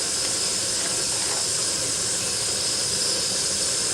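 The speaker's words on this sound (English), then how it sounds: "We'll just turn this down here and we'll get some gas." Steady gas hiss from a Kovea Supalite titanium backpacking stove, a continuous, fairly loud rushing sound that stays even throughout with no talk over it.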